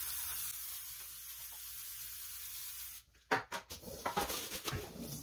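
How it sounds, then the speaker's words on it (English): Several short hissing bursts of cooking spray from an aerosol can onto a 9x13 baking pan, close by, after a few seconds of steady low background noise. "I'm gonna take a 9x13 and spray it all down."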